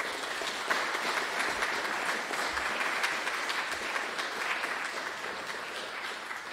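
Audience applause after a lecture on Simon Willard eight-day clocks, a steady wash of many hands clapping at moderate volume from a room of listeners, sustained evenly throughout without talk.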